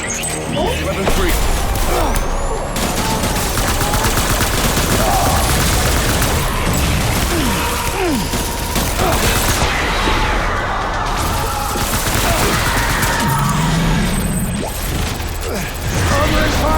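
Heavy continuous gunfire from soldiers in Death Stranding Director's Cut, loud overlapping bursts with booms, crashes and mechanical clatter, and shouted voices mixed into the chaotic battle din.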